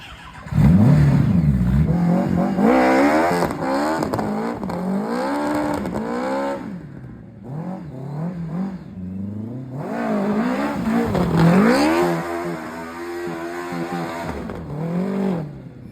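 A kei truck fitted with a Yamaha FJ1200 motorcycle engine revs hard and accelerates, its high-pitched engine note sweeping up and down through repeated climbs, loud and close, with a brief dip before another rising run.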